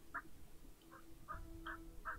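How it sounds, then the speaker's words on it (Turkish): Turkeys gobble in the video game Settlement Survival, with five short, faint calls spaced across a moment over a low background hum. "Hindilere bak sen."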